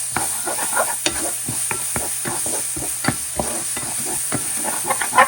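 Onions sizzling in a hot pan for paklay, with a utensil stirring and scraping in irregular close knocks over a continuous frying hiss, no voices.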